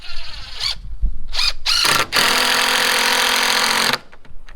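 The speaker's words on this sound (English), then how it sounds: "I love this drill." Power drill runs in short bursts, then a steady sustained whir for about two seconds outdoors during a rustic bar and prep table build, loud and close with no talk over it.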